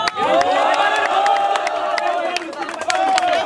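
Crowd at a rap battle cheering, whooping and clapping loudly for MC Cigano, a steady dense roar with sharp claps and shouts throughout and voices mixed in.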